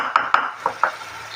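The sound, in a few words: sautéing greens with salt and green chillies in a pan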